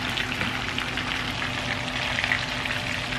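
Eggplant slices frying in a pan on low heat, a soft, even sizzle with faint crackling and bubbling throughout, no voices.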